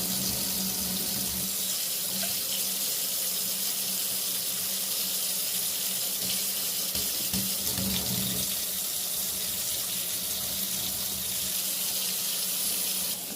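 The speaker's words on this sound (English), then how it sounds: "Guys, I'm putting some water in the pipe." Water runs steadily through joined copper and PEX pipe with a SharkBite fitting, a continuous loud hiss and gush that holds without pause.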